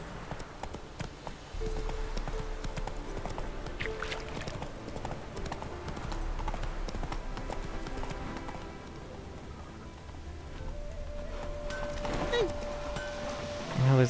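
Roach, the horse in The Witcher 3, gallops with a steady, rhythmic clatter of hooves that starts after a brief pause and keeps a fast, even beat through the rest, under a soft game score.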